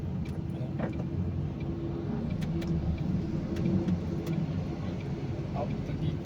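Heavy trucks roll past on a flooded road during rain in Lemery, Batangas, a steady low engine rumble with water noise filling the whole stretch, fairly close and continuous, with faint voices in the background.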